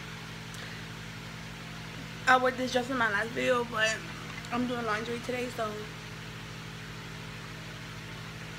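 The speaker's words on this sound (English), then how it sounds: "I'm sorry for the noise in the background. That's the fan." An electric fan hums steadily in the background throughout, a constant low whir with a faint tonal drone, while a person talks over it in the middle stretch.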